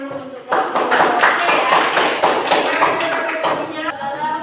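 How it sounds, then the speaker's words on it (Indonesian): A classroom audience claps for a student group, a brisk, fairly close round of hand claps and taps lasting a few seconds before it tapers off, with some voices mixed in. "beri tepuk tangan dulu untuk kelompok"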